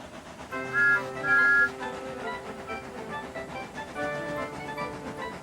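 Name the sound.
steam engines whistling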